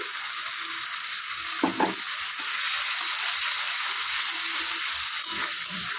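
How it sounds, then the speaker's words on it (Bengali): Spices and ingredients sauté in a hot pan for a stinging catfish curry, giving a steady, close sizzling hiss with a couple of brief stirring scrapes partway through. "সব কিছু ভালো করে একটু কষিয়ে নেব"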